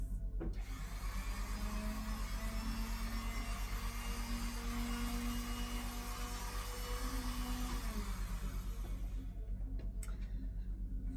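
A motorized quilting frame whirs steadily as it lowers the back canvas, a close mechanical hum with a gradually shifting tone that winds down and stops near the end, followed by a couple of faint clicks.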